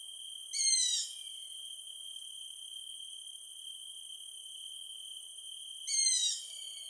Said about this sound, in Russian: Разбудили мы хищных птиц, преследуют меня по полю.